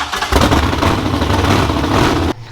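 A rebuilt derby-car V8 cranks and catches at about a third of a second, then runs at a steady, loud, rough idle close by before cutting off abruptly near the end, with no talking.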